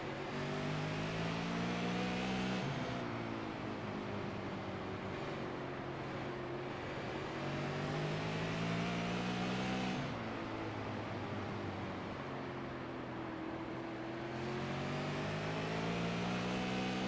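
Onboard race car engine in the racing game iRacing during an Outlaw Super Series race, droning loudly and steadily with rising and falling pitch as the car laps, with no speech.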